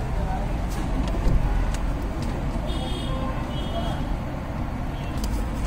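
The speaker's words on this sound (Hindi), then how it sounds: "गाड़ी स्टार्ट हो गई है भाई" Steady low engine rumble of a Mahindra Scorpio N Z4 automatic idling, heard from inside the cabin, constant and fairly loud with faint background sounds and a brief soft buzz.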